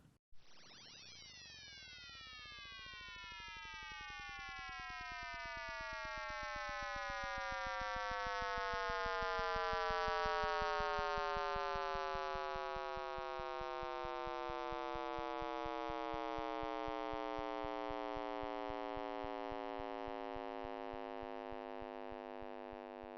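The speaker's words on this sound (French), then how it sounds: "Et en petit bonus, voici le son du Big Bang." A sonified Big Bang: a rich tone sweeps from a sharp onset into a dense, slowly descending cascade of sliding harmonics, droning eerily for over twenty seconds.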